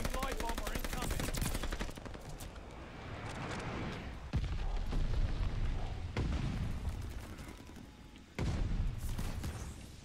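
Dual shotguns fire in a shooter video game as heavy, loud blasts and rapid volleys, with dense fire early on, then sporadic booming shots and bursts that continue over steady game noise.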